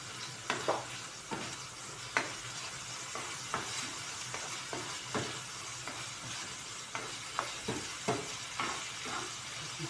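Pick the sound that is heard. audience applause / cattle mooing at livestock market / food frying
food frying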